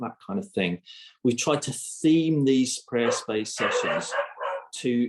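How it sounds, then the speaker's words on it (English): A dog barks outside during an indoor talk, the barks faint and muffled beneath continuous close speech. "really sorry about my dog's barking outside"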